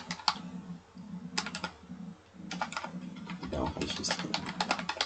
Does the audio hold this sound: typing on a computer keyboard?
yes